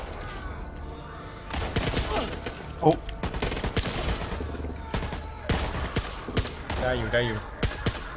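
Gunfire from the co-op zombie shooter Back 4 Blood, with bursts of rapid shots and single cracks mixed with game effects, while players talk and exclaim over the action.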